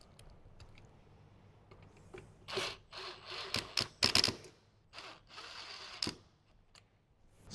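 Factory speaker screws being snugged back in by hand inside a 2015–2018 Jeep JK Wrangler, close quiet scraping, clicks and ratchety tool sounds in short uneven bursts with pauses.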